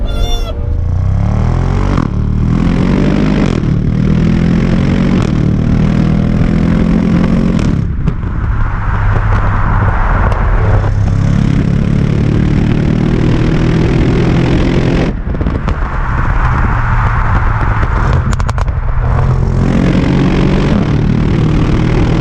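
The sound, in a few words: Audi RS6 Performance engine revving in dynamic mode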